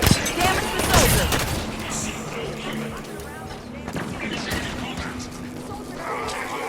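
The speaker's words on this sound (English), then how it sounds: "Turrets on and firing." Rapid bursts of gunfire from automated turrets in Halo 5 rattle through a busy battle mix with explosions and crashes, while a voice speaks over the shooting.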